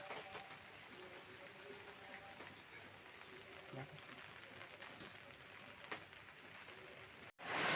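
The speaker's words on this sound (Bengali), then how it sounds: "আর এদিকে বৃষ্টি হচ্ছে" Soft, steady rain patters outside a kitchen with a faint even hiss throughout, quiet and distant, with a sudden louder bump right at the end.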